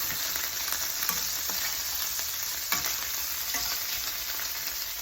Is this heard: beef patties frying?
yes